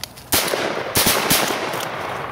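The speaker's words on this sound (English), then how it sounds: "Shot at a crumpled up crow after he got missed on the opening volley" Shotgun fire at crows from a hunting blind: several loud, sharp blasts in quick succession, close by, each with a short rumbling tail, separated by gaps under half a second.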